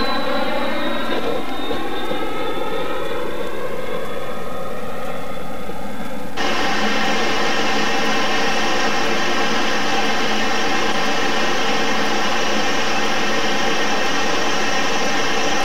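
A Fouga 170 jet makes a low pass over a runway, its loud engine whine sliding downward in pitch, then shifting abruptly to a steady roaring drone that holds to the end.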